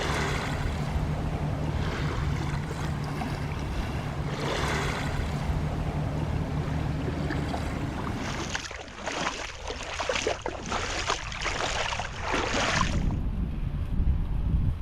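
Surf rolling onto a Gulf of Mexico beach, a steady broad wash of waves with heavy wind buffeting the microphone, surging louder in the latter half.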